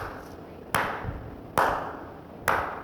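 Three single hand claps ring out loud and close, spaced about a second apart, each a sharp crack followed by a short reverberant decay in a quiet room.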